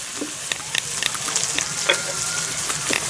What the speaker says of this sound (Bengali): এবার সবগুলো একসাথে ভেজে নেব